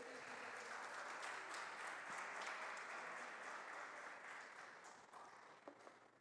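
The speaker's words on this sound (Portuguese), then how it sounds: "aplauda o Senhor com alegria" A church congregation applauds the Lord with joy, a steady dense wash of clapping that holds evenly for several seconds and tapers slightly near the end, fairly distant and reverberant.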